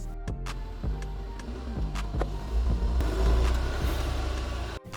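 A Mazda 3 being reversed onto a lift, its engine rumbling low and building in a slow rise, with a few clicks and knocks early and an abrupt cutoff near the end.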